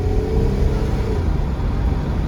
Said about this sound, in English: Oh man, it shifts and runs so good.